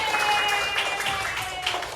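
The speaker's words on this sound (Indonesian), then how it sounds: "Tepuk yang banyak." A group of children in a classroom claps together in a busy burst of overlapping hand claps, steady and fairly loud throughout.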